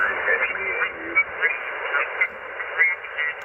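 Splatter on the 80-meter band through a Yaesu FTX-1 receiver: a band-limited, distorted hiss of garbled sideband voice bleeding in at steady moderate level, crackly and muffled, with no clear words.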